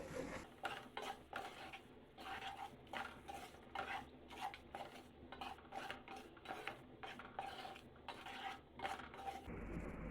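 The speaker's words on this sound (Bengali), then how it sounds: "এবার নেড়ে চেড়ে মিশিয়ে নিচ্ছি।" A spoon stirring grape chutney with added sugar in a pan, rhythmic scraping strokes against the metal repeating steadily, close and fairly quiet, with no voices.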